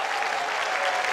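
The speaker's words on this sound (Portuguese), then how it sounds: "vocês não aplaudem. Mais palmas?" Audience applause at a school Festa Junina performance by young children, dense steady clapping from a crowd, fairly loud and without speech.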